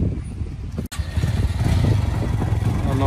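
A new Biz motorcycle engine rumbles low and steady at close range after a brief cutout, with some voices faintly in the background.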